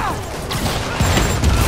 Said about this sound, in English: He shot at RPG at point blank range.